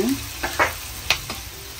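Sliced onions and chili sizzle and fry in a pan while oyster sauce goes in, with a constant close crackle and several brief scraping stirs of a spatula.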